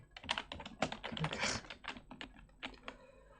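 Rapid, close typing on a computer keyboard: a dense run of quiet key clicks that thins out toward the end, with no voices.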